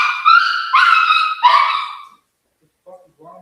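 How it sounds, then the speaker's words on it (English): A dog named Pablo barks three times in quick succession, sharp and fairly close, then goes quiet before a couple of faint yips at the end. "Did you guys hear this dog?"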